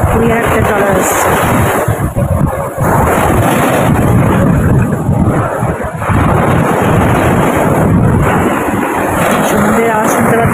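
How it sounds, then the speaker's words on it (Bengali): Surf at Frasergunj beach on the Bengal coast rolls in as a loud, continuous roar, with wind buffeting the microphone and a faint voice in the background. "সমুদ্রের আওয়াজ শুনতে পাচ্ছ তোমরা?"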